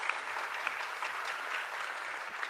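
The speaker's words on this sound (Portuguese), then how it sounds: "Vamos dar uma salva de palmas para a nossa juventude." Applause from the congregation at Sunday mass for the youth group, a steady, fairly soft patter of many hands clapping from a moderate distance, with no voices over it.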